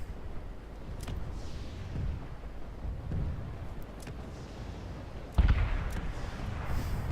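Distant suppressive gunfire and artillery from lines of NC tanks in the Planetside 2 video game: scattered dull booms and sharp cracks over a constant battlefield rumble, with one louder close blast.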